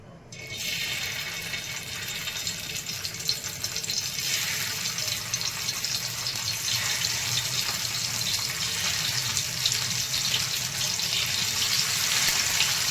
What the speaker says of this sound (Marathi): आणि निरफणसाचे कापे आपले तळून झालेले आहेत